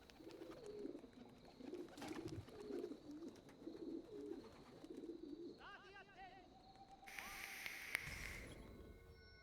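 A bird coos in an Assassin's Creed game, soft repeated calls mixed into a busy game ambience with other chirps, footsteps and scattered effects.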